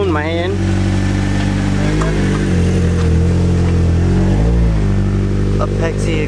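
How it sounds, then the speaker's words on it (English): A Nissan SR20DET engine idles loud and close through an Apexi exhaust, rumbling steadily with a few brief throttle blips, while a voice talks over it. "Apexi exhaust."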